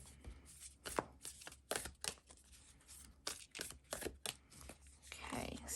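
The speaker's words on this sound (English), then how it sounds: "just want to give these a pretty good shuffle here" Tarot cards being shuffled by hand, a run of crisp riffling and slapping bursts with short pauses between, close and fairly quiet, with a steady low hum underneath.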